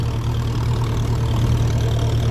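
A 1957 Ferguson 35 tractor running on TVO labours steadily, its engine thrumming in a continuous low, even drone with a faint knocking texture, heard close and alone.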